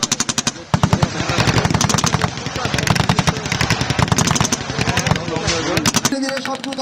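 Bangladesh Army exercise with tanks, APCs and foot infantry firing together: loud, rapid automatic gunfire in dense, nearly continuous bursts, with heavier booms mixed in.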